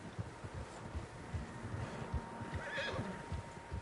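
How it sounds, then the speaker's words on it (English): Several horses neigh and whinny over steady hoof clip-clops, with faint wind in the background, in Red Dead Redemption 2. "Horses, quite a few of them"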